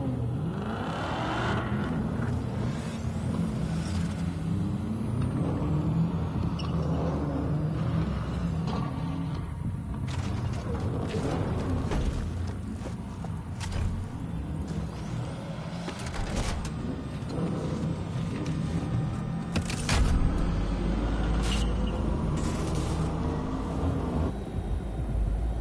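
In the video game Cyberpunk 2077, a vehicle convoy rumbles through a desert. Car and truck engines rev and pass at close range for a long, steady stretch, with deeper surges near the end.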